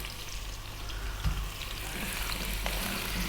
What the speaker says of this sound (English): I'm using mustard oil, but you could use any oil you want. Mustard oil's got quite a distinctive flavour. Simply we're going to drop in the potatoes.